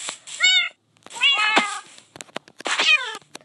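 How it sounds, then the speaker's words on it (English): A Minecraft ocelot meows three times in close succession, each cry clear and near with a short gap between, with soft game clicks in the pauses and no talking over it. "Aw, it's a kitty cat, look at the kitty cat!"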